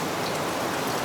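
Heavy rain pouring down, a dense, steady close wash of drops hitting surfaces, loud and continuous with no voices over the brief stretch.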